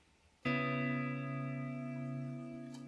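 A single electric guitar chord through the Amplitube 5 reverb plugin rings out suddenly and sustains with a lush reverb tail, fading slowly over a few seconds.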